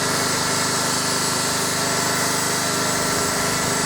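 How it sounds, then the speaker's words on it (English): A new Black & Decker grinder fitted with a wire brush runs steadily on bolt heads of a hydraulic tank on a 1970 Caterpillar 951 loader, a loud, continuous, harsh whirring drone close by. "The new Black & Decker grinder seems to be working alright."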